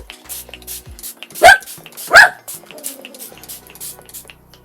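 Two loud, close dog barks in quick succession, with faint clicks and small background noises around them.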